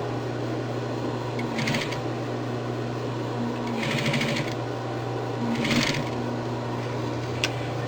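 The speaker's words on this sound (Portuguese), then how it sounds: "você pode ir fazendo aqui, ao invés de reta, já ir costurando com zigue-zaguezinho." A zigzag sewing machine stitches a curved fabric edge, its motor humming steadily throughout with a few short bursts of louder, rapid stitching.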